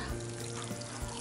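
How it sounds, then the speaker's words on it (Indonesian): Water pours steadily into a potted grape plant, soaking a soil mix of burnt rice husk and soil conditioners until it drains from the pot base, a continuous close splashing flow with no talking. "Sekarang pot kedua pun akan saya siram dengan cara yang sama, dan ini harus airnya keluar"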